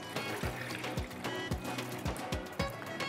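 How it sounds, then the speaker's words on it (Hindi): About four glasses of water are poured into a cooking pan on a stove. The liquid splashes and glugs in a quick, repeated rhythm, close to the pan. "इसके अंदर आपने डालना है तकरीबन 4 ग्लास पानी, पानी हम इसमें डालेंगे"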